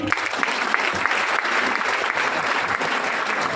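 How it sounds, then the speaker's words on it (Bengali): A crowd claps loudly and continuously at a direct-selling business gathering, dense applause holding steady for several seconds with a faint voice beneath. "এই দুই ম্যাডামের জন্য ফাটিয়ে হাততালি।"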